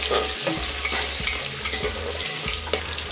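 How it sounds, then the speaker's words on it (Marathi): Tomatoes stirred into reddened onion in a pan for basmati pulao, a steady close sizzle broken by scraping stir strokes, with no talking. "त्यामध्ये आपण टोमॅटो टाकूया। टोमॅटो थोडीशी परतून घेऊ।"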